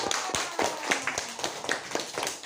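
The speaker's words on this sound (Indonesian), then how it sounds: "Tepuk tangan buat kelompoknya Anita, kelompoknya Novi, serta kelompoknya Suwarnato." A small group of students in a classroom claps for fellow student groups, with sharp individual claps in a loose, uneven rhythm, close and moderately loud.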